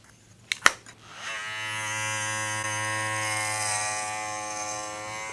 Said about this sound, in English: we're going to go over to the Kenchi Flash with a 3/4 inch guard comb